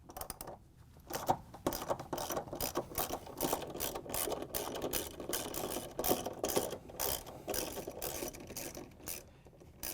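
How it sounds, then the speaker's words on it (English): Close, continuous clicking of a 3/8-inch ratchet and socket backing out stator bolts on a Whirlpool/KitchenAid/Maytag washer outer tub assembly, rapid uneven ratchet strokes filling the whole stretch without talk. "To get the stator out, we're going to use a 3/8-inch ratchet with a socket"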